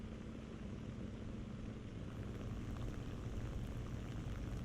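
A Yak-3 fighter plane's piston engine in flight in a combat flight game, a steady droning roar that holds level and grows slightly louder partway through, with no talking.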